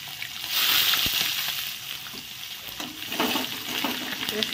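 Garlic, cumin and whole bay leaves frying in hot oil in a pan, giving a steady close-up sizzle with occasional stirring scrapes and soft liquid bubbling, no voices.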